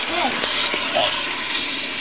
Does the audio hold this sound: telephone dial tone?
no